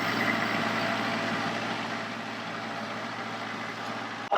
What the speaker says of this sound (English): He's coming up on the tractor right up here.